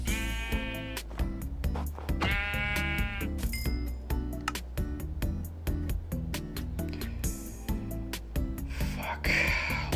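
Sheep in the video game Minecraft bleating in several distinct calls over a steady game soundtrack with repeated percussive hits, the bleats standing out clearly near the start and again mid-clip.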